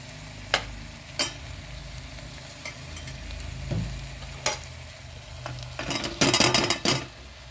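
Chopped potatoes fry in a no-onion, no-garlic vegetable curry for puri bhaji with a continuous close sizzle, punctuated by sharp metal clinks and a burst of stirring scrapes near the end.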